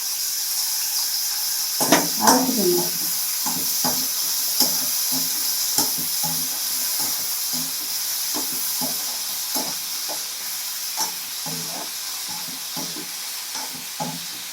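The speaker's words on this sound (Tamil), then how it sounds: "இந்த பூண்டு எல்லாத்தையுமே இதை வதக்கி எடுத்துக்கிறோம்" Garlic sautéing in a hot pan for mutton gravy, a steady sizzle and hiss running throughout with scattered stirring clicks and scrapes, a busier burst of spatula movement near the start.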